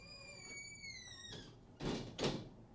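A door slides and shuts with two dull thumps, following a faint high electronic whine that fades out.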